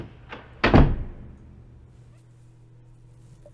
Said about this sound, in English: I storm into the apartment and slam the door behind me